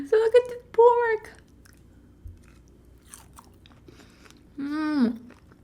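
Someone chews chashu pork from Japanese instant ramen, with a few soft, wet bites and moist mouth sounds close to the mic, broken by humming murmurs of enjoyment between them.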